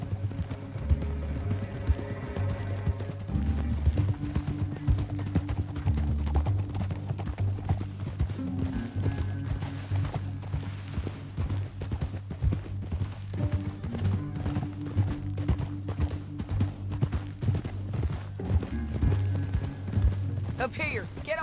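Horse hooves clip-clop steadily in a Red Dead Redemption 2 western scene, a continuous rhythmic beat under an orchestral music bed, with a voice speaking over the riding.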